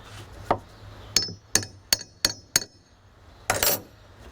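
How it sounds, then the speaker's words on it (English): A largish socket is tapped with a hammer to drive a fork seal into a vintage Honda motorcycle fork, giving five sharp metallic knocks in quick succession followed by a heavier double strike, close and clear. "I know there's a special tool for this, but I've got a largish socket I'm going to put on there."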